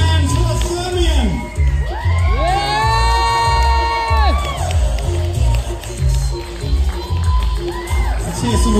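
Crowd at a steampunk fashion show cheering, whooping and shouting loudly and continuously, with high excited voices rising and falling and a steady clapping beneath.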